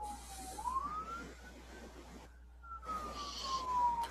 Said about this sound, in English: I hear a siren in the background.